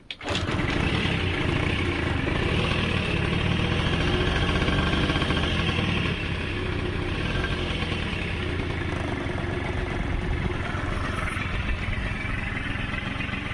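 A two-stroke scooter engine runs steadily after repair, a loud, continuous buzzing idle that starts abruptly and holds an even rhythm throughout, close up and with no talking.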